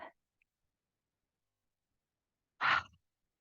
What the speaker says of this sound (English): inhale through your nose and exhale out of your mouth